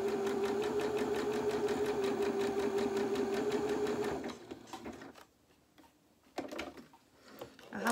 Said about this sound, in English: we're just going to sew down this seam that we've just sewn between the legs